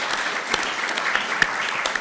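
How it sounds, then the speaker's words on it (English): An audience applauds at a lecture on green wood and green buildings, a steady wash of clapping with a few sharper claps standing out close by. "with a big round of applause"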